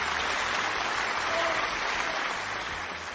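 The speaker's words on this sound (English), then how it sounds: "Give yourself a round of applause" A round of applause for a contestant on a game-style show, heard as a steady, even roar of many hands clapping at moderate loudness, fading a little toward the end.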